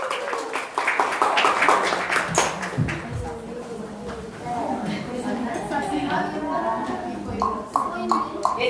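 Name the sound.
applause welcoming children to the stage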